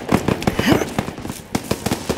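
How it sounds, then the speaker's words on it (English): Rapid bursts of gunshots crack repeatedly at a moderate distance in Call of Duty: WWII, a steady chatter of sharp reports over a noisy battle backdrop. "Gunfire! We must be near our guys."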